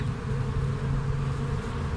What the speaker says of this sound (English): And these field bees are looking for a home.